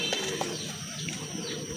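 Pigeons coo at a pigeon farm, soft throaty calls close by over a constant background hum and a few chirps.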